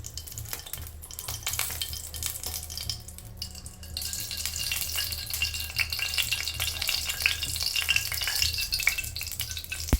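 Ghee heats in a pan on a stove, crackling and sizzling steadily up close, with clinks and scrapes as it is stirred, growing a little busier toward the end.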